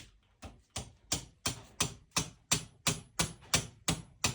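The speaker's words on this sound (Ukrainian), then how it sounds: "І молоточком забиваємо." Steady, evenly spaced metallic strikes, about three per second, as a hammer repeatedly drives a steel rebar rod into the ground for an electric car grounding rod, close and fairly loud.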